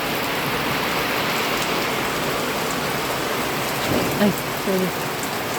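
Heavy rain pours steadily in Leyte, a dense, loud hiss that fills the whole clip while a person briefly speaks over it near the end.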